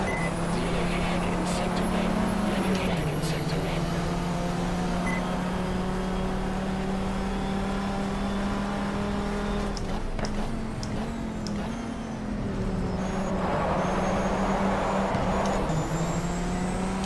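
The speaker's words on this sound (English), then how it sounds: "the sound of the engine on board looks very similar to a turbo diesel engine of a truck" On-board race car engine in the GTR2 racing game at Interlagos, a steady gritty drone resembling a truck's turbo diesel, with pitch shifting through gear changes and a brief dip near the middle, loud and continuous throughout.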